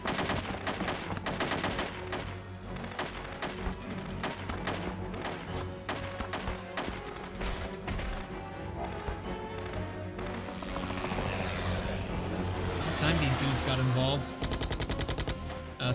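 Rapid repeated gunfire in the horror action game Parasite Eve II, dense machine-gun-like bursts packed tightly across the whole stretch, loud and continuous over game music, with a voice talking at points.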